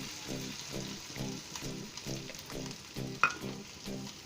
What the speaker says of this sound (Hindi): इसमें हम किसा हुआ आलू डाल देंगे